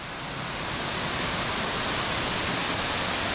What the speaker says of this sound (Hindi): मार्ग का पहला वाटरफॉल, दुग्ध के समान सफेद जल।